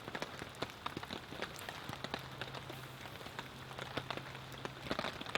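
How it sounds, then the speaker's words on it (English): Rain patters steadily on a campsite during an overnight thunderstorm, a soft, faint hiss dotted with crisp individual drop hits, with a low hum running underneath and no talking. "The rain keeps letting up and then coming back in full force."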